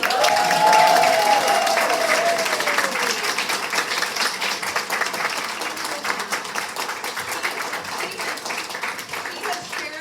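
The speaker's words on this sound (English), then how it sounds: "Can we give Dawn a round of applause?" An audience at a sales event breaks into sustained applause, dense clapping filling the room for about ten seconds, loud at first and gradually thinning, with a brief voice at the start.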